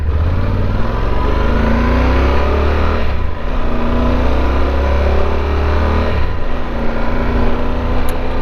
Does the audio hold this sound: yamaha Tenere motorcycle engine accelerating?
yes